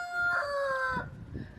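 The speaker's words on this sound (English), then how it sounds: "This chicken is now trying me." A chicken on a poultry farm in Zimbabwe gives a loud, drawn-out call with a rising and falling tone, followed by softer clucking noises close by, with no speech.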